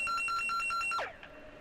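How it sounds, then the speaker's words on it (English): The game buzzer at an underwater hockey match at a world championship sounds as a rapid, pulsing electronic ring for about a second. It cuts off sharply, then a faint tail fades out. "And that would be their buzzer"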